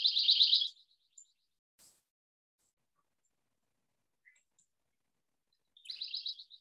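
A small winter bird at a feeder gives a bright, rapid trill, heard twice as short high bursts at the start and end, separated by near silence with a few faint chips.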